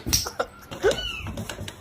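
Cats defending their kittens let out sharp, close meows and a rising yowl in a short agitated burst, with no talking.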